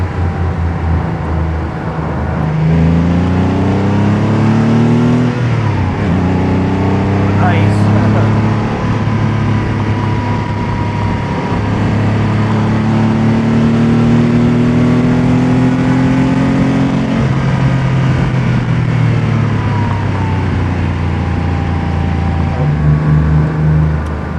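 A Porsche 911 Targa GTS engine revs and roars steadily, pitch climbing and falling through gear changes, loud and close for the whole stretch.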